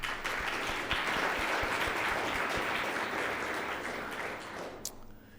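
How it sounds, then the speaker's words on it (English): Round of applause from an event audience at a talk on the future of personal transportation, steady dense clapping that fades toward the end and ends in a sharp thump. "Let's give all of those supporting today's event another round of applause."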